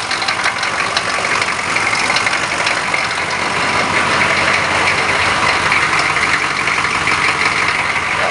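Car engine idling after a cold start during a transmission fluid fill, a steady, even rumble with a faint rhythmic tick, close and continuous without pause.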